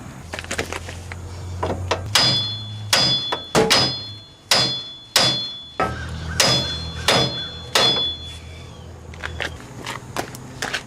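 Heavy hammer blows strike metal in a steady series, driving a CV shaft out of the front hub on a 1996 4WD Chevrolet S10, about a dozen sharp ringing impacts at close range with a low hum beneath.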